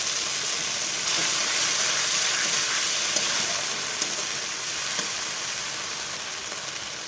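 A spice paste and water sizzle in a hot pan while Bengali food cooks, a loud, continuous frying hiss close by with a few small clicks from stirring.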